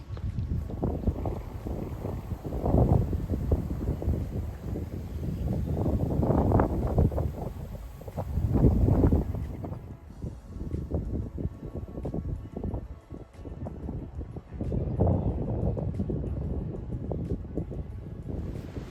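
Gusty wind buffets the microphone in uneven waves on a walking trail in Iowa, a low rumbling roar that swells and fades, with no voices.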